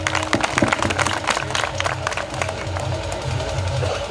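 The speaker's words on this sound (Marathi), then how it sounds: "त्यांच्यासाठी टाळ्या वाजवा" Audience clapping at a kirtan held in place of a DJ at a wedding, a dense burst of applause with some crowd noise and speech mixed in, steady and close throughout.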